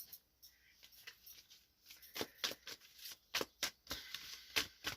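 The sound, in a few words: shuffling oracle cards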